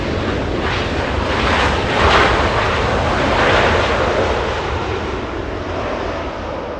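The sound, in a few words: Singapore Airlines airliner landing on runway 24 right at LAX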